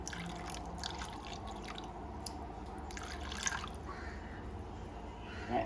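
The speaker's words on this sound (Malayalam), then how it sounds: "ആ കുടംപുളിയുടെ വെള്ളം ഞാൻ അല്പം ഈ കഷ്ണത്തിലോട്ട് ഒഴിച്ചു കൊടുക്കുകയാണ്" Kudampuli (Malabar tamarind) water trickles and drips onto shark fish pieces in a small, close pour, soft splashes and patters over a faint room hum.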